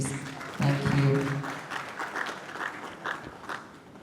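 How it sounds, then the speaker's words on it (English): Applause from a conference audience at a Nigerian gender-procurement policy event, a moderate, fairly dense patter of clapping that briefly swells early and then settles into a thinner ripple, with a short voice heard at the start. "Another round of applause, please."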